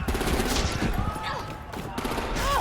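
Rapid bursts of gunfire from the video game Batman The Enemy Within crackle close and loud, mixed with game sounds while voices talk over them.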